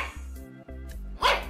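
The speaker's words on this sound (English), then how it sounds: "Dogs that bark," A dog barks in short, close bursts, with a sharper, louder bark at the end, used as a sound effect in a children's read-aloud story about animals.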